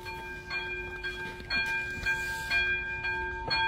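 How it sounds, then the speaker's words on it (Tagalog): A train passes along a track somewhere in the Czech Republic, giving a steady rumble with rhythmic clacks from the wheels and a faint tonal whine, with no talk over it. "Idadaang train."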